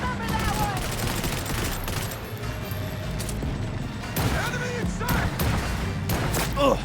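Sniper rifle fire in the Cyberpunk video game lands as repeated sharp, loud bursts of gunfire over dense battle noise, with clustered shots mid-clip and more toward the end.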